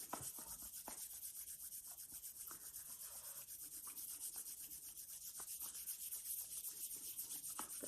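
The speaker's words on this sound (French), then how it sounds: "Allez, frotte ses mains." Hands rub briskly together to warm up, making a steady close dry swishing with soft rhythmic strokes throughout, quiet and alone with no talking.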